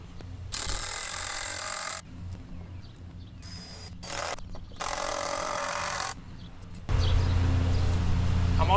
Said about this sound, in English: I went ahead and put one screw in the middle there just to hold this side down.